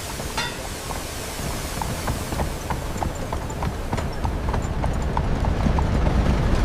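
Horse hooves clip-clop in a steady rhythm along a timber-paved street where horse cars share the lanes, the repeated strikes moderately loud over a constant background rumble.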